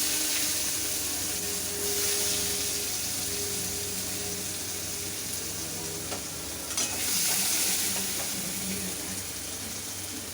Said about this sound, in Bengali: সেই কুচনো পেঁয়াজ দিলাম।